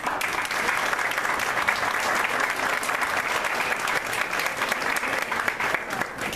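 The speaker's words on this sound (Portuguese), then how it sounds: "pedir também uma salva de palmas para o diretor da CCR Barcas" A seminar audience bursts into dense, loud, sustained applause for a company director, continuing evenly for over six seconds as a broad wash of clapping.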